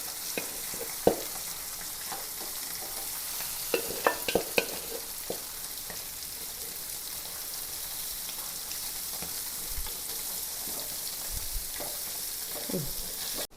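Steady, soft sizzling of oil frying throughout, with occasional clinks and stirring taps of a utensil against the pan.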